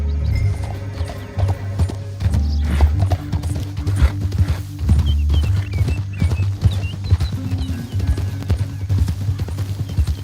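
Rhythmic clip-clop of horses' hooves galloping in Red Dead Redemption 2, steady and close, with a low rumbling background and occasional faint high chirps.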